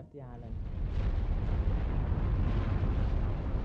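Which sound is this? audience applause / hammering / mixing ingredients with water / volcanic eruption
volcanic eruption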